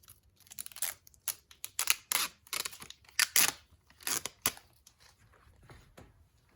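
Red backing film peeled from the adhesive tape on a blacked-out Ford F-150 fender badge, close and crisp, a run of short tearing and crinkling bursts with brief pauses between, no talking.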